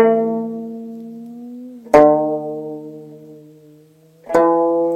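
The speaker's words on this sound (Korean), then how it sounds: "추성은 본 음에 밀어서 연주하는 거고요" A Korean string instrument is plucked using the chuseong technique, in which the string is pushed to bend the pitch upward. Three clear, close notes ring out alone, and each sustains and decays with a gliding pitch.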